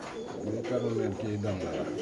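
A pair of Gacha Super Mili racer pigeons coo nearby in soft, throaty, rolling calls that come in two short phrases.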